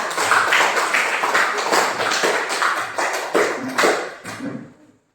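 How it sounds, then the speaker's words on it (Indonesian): A classroom group claps for group 3 in a brief burst of dense, fairly close applause that fades out over a few seconds. "berikan aplaus untuk kelompok 3"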